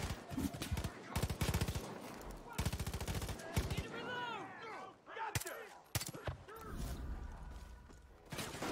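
Rifle gunfire in the Far Cry 5 video game: several rapid automatic bursts and single loud shots, close and punchy, with game effects and brief pauses between volleys.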